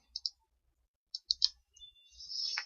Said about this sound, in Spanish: Clic derecho a la mitad